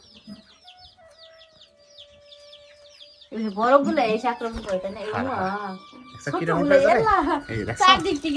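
Chicken chicks cheep in rapid, high peeps that sound thin and close, then loud voices talk over them for most of the second half.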